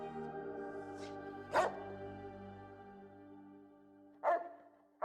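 Mini cyborg dogs in the Fallout video game give three sharp barks, spaced apart and fairly close, over a steady droning musical background.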